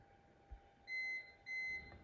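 A CyberPower UPS battery backup gives two short, identical high-pitched electronic beeps in an even rhythm, fairly close and clear against a quiet room.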